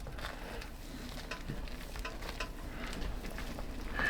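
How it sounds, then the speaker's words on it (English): Pork and cabbage simmering in a pot as a soup, giving a steady soft bubbling and light crackle, close and continuous at low level with no talking. "Now I'll let this simmer for a few more minutes and it'll be ready to go."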